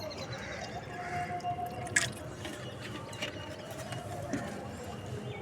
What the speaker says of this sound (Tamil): இந்த வாழைக்காய் தண்ணியை இந்த பாட்டிலில் கொண்டு வந்திருக்கோம் அதை ஃபில்டர் பண்ணுறோம்